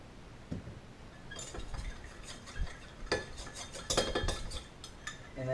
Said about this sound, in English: So let's keep on stirring.